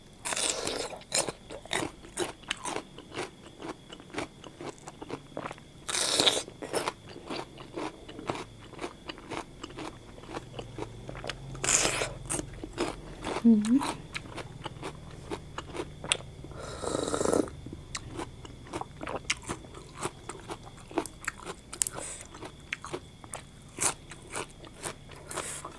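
Crunchy raw spiny lobster sashimi bitten and chewed up close, with repeated sharp crisp crunches and wet chewing sounds, no talking.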